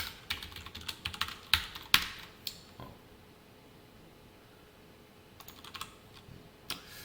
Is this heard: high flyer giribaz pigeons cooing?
no